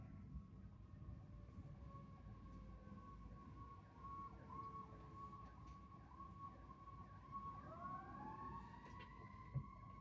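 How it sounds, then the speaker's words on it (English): A fire truck siren wails in the distance, its rising and falling tones sweeping faintly through a steady low background rumble for the full stretch. "I hear the fire truck in the background"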